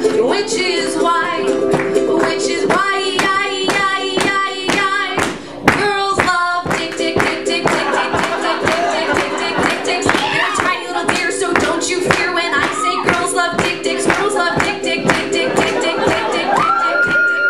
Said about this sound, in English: Go for it. Keep clapping.